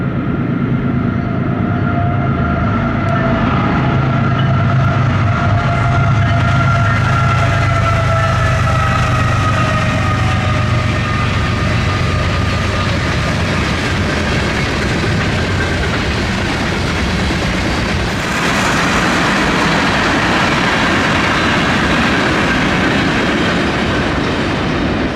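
A Norfolk Southern freight train, NS 39E with a Union Pacific GEVO trailing third, rolls past in a loud, continuous rumble with droning locomotive tones early on, close and sustained for the whole stretch.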